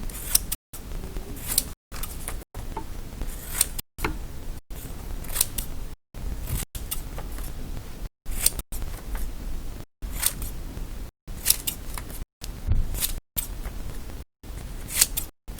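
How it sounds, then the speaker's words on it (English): Scissors snip out shapes in a steady run of close, crisp cuts separated by short pauses, roughly a dozen strokes with no talking. "So now we're done with our scissors."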